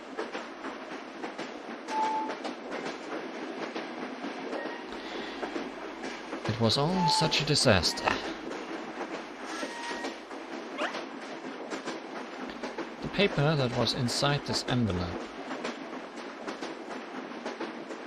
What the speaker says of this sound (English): I was kinda hoping the train noises would turn into Hiroshiga. I guess they're just train noises.